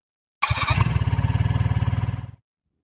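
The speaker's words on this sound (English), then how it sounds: "A motorcycle horn sounds beyond the fence." Beyond a fence, a motorcycle sounds a short, loud, buzzing horn blast lasting about two seconds, steady and slightly rasping before it cuts off into silence.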